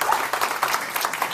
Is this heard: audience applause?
yes